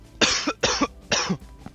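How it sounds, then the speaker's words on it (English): Three quick coughs close to the mic, evenly spaced, with a short rough exhale after each burst. "I got a cough"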